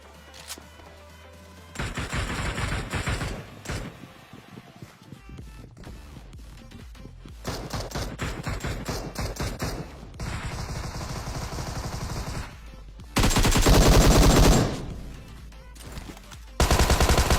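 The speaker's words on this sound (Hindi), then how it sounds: "मेरे को मिल जाती है AKM, जो कि तुम्हें पता ही यार मतलब बहुत ज्यादा खतरनाक गन है क्लोज के अंदर" Bursts of AKM assault rifle fire in PUBG Mobile at a military base, loud rapid automatic volleys in several separate strings with short pauses between, close and dominant, with no talk over them.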